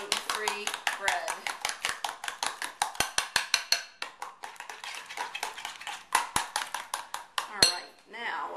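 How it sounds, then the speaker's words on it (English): A spoon stirs gluten-free banana bread batter in a bowl, making a rapid, irregular series of light clinks and scrapes against the bowl that slow toward the end. "Start with a little well in the middle there and just start stirring around"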